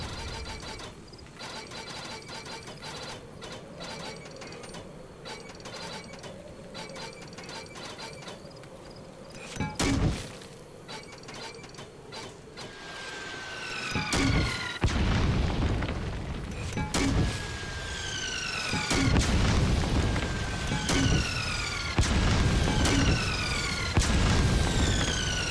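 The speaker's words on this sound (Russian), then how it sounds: "Стрельба из миномета — это здорово." Mortar fire and explosions in the video game Metal Gear Solid V: The Phantom Pain, with loud booming blasts arriving in bursts, descending whistling shell sounds overhead, and a mechanical rumble underneath.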